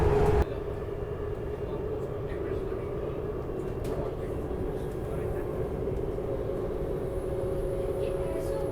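A steady low rumble and rushing hum heard from inside India's RapidX rapid rail train between Delhi and Meerut, running above 100 km/h, continuous and moderately loud, with a faint tonal whine.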